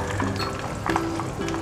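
Chicken chops sizzling steadily in a frying pan, with soft scraping and stirring as the pieces are turned over, a close continuous fry with brief utensil clinks.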